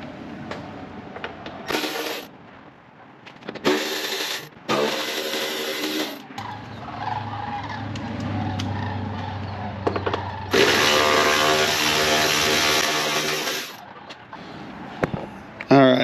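Screws come out of the tow mirror mount on a 2017 Ford F150 with a powered driver, which whirs in several bursts of a few seconds each, one long run near the middle. Someone talks between and over the bursts.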